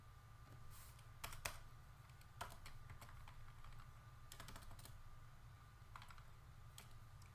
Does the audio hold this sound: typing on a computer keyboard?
yes